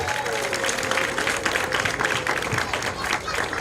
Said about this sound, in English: give yourselves a round of applause and pat on the back